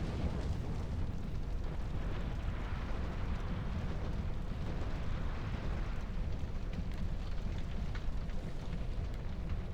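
A windmill burning in the Dark Souls 2 video game, a continuous deep roaring rumble of fire that stays dense and steady from start to finish with no voices.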